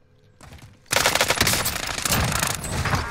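MG 82 machine gun firing in a video game, a loud sustained rapid burst starting abruptly after a brief quieter moment and continuing steadily to the end.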